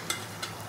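Lentil dumplings (bori) frying in hot oil in a home kitchen, a soft steady sizzle with two brief stirring scrapes, quiet and close.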